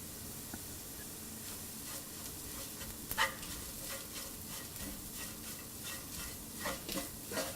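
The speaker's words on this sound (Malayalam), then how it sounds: "ആദ്യം തന്നെ മഞ്ഞൾപ്പൊടി, മല്ലിപ്പൊടി എന്നിവയിട്ട് നന്നായിട്ട് വഴറ്റുക" Onions sauté with turmeric and coriander powder for a mutton curry, a faint, soft sizzle under a run of light spoon scrapes and stirs, with no voices.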